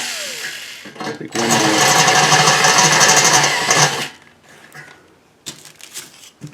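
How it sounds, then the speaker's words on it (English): A step drill enlarges a hole to a quarter inch in a pot metal part from a Mustang, giving one loud, steady grinding whir of about three seconds with quieter handling noises before and after. "So I'm just going to use my step drill"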